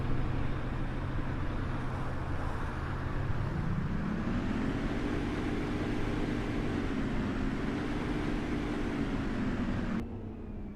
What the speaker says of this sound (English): All I've really left to do is turn on the engine, hear how it sounds.